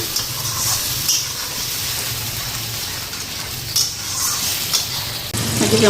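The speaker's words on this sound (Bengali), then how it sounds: "মশলা ফ্রাই হয়ে গেছে" Masala of onion, green chili, turmeric and salt frying in fish oil, a loud continuous close hiss and sizzle with occasional soft stirring scrapes, no talk.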